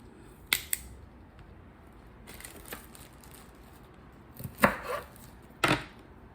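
Broccoli florets are snapped off by hand in a quiet kitchen, giving a few sharp, crisp cracks with short rustles between them.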